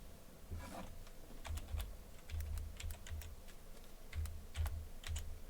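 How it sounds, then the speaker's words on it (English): Clacky keystrokes on a noisy gamer computer keyboard, irregular bursts of fairly close, sharp taps with short pauses between runs, no talking. "Why is your keyboard so noisy? Cause it's a gamer keyboard."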